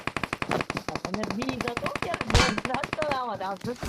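Rapid automatic gunfire in the video game BGMI rattles in fast, even bursts, close and loud, while a person talks over it.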